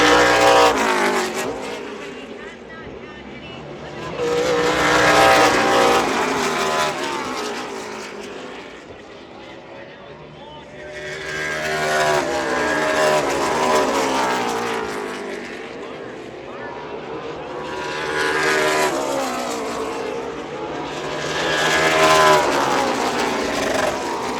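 NASCAR Xfinity race cars at Circuit of the Americas turn 12 roar past in three loud swelling waves, each engine surge building and fading as the pack climbs the hill, with a commentator speaking over the noise.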